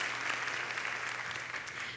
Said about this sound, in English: all of you guys should give yourselves a round of applause